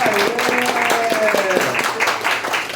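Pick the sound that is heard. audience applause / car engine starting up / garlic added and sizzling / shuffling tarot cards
audience applause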